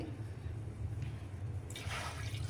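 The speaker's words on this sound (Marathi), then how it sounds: "पातेल्यामध्ये आपण थोडं पाणी टाकून घेऊया" Water is poured into a cooking pot before milk is heated for rabdi, a brief rushing splash that starts suddenly near the end over a low kitchen hum.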